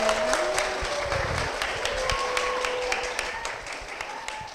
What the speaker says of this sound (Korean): 우리 그런 박수를 할까봐요